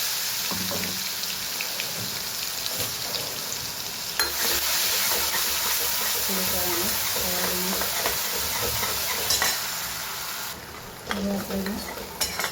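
Cumin, asafoetida, onion, tomato and crushed garlic sizzle steadily in hot oil for a tuvar dal, a continuous close frying hiss with occasional stirring scrapes and louder bursts as ingredients hit the pan.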